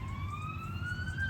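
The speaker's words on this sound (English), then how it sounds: "Oh, it's a police car." A police car siren wails with a slowly rising tone, heard at a moderate distance over low background rumble, near Rishikesh, India.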